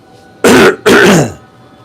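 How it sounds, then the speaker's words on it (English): Two sharp, loud coughs in quick succession, close by, with a brief pause between them and quiet afterward. "I'm sorry about my cough"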